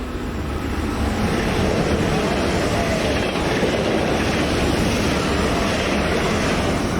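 A Swiss ICN Intercity tilting train rumbles steadily past at close range near Altdorf on the Gotthard line, a dense, continuous roar with faint rhythmic wheel clatter throughout.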